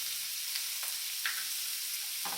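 Squid stir-fries and browns in a hot pan, giving a bright, continuous hiss of sizzling oil. A couple of brief stirring knocks sound close and moderately loud.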